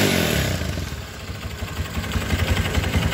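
A motorcycle engine fitted with a bore-up kit runs steadily up close, a smooth continuous low rumble with light rhythmic pulsing and faint mechanical clatter, no voices over it.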